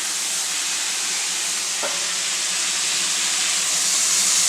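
A smashburger patty sizzles steadily in a hot pan while pressed flat with a charcoal patty press, giving a continuous loud, hissing fry with one brief faint tap partway through.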